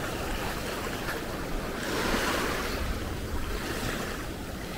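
Strong surf breaking along the Okinawa coast, a steady, broadband wash of rolling waves with some wind buffeting the microphone, continuous and fairly even in loudness with no voices.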